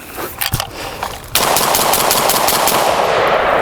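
An M14 rifle fires close by: a couple of sharp shots, followed by a fast, loud string of rounds that carries on to the end.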